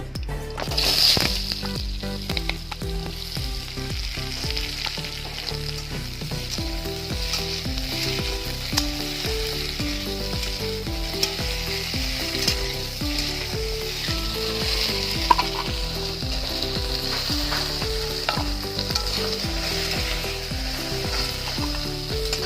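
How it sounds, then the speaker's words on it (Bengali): Taro pieces frying in oil for a mixed-vegetable curry, a steady sizzle running throughout with music playing over it and no voices. "কচুগুলো ভেজে নেব।"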